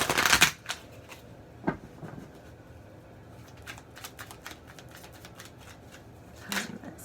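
Tarot cards are shuffled in quick riffling bursts, a loud flurry at the start, then a scatter of soft flicks and taps, and another riffle near the end.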